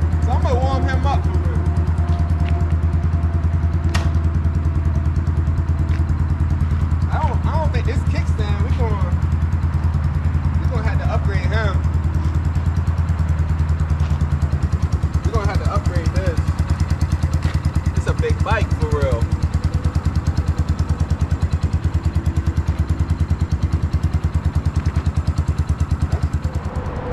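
A brand-new SSR 150 dirt bike engine idles while warming up on choke, a steady low chugging throb close by, with a person talking intermittently over it.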